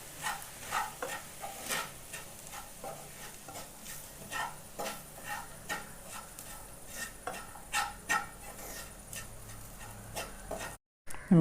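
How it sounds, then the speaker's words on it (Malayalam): Spoon stirring and scraping through grape pickle in a pan, a quiet, steady series of soft clinks and scrapes repeating roughly every half second. "നല്ല മിക്സ് ചെയ്യുക."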